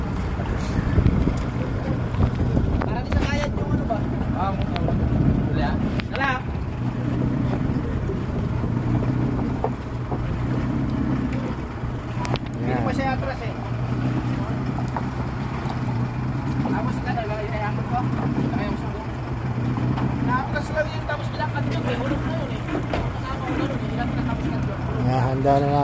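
A boat's outboard motor runs steadily with a low hum while wind buffets the microphone and people talk over it.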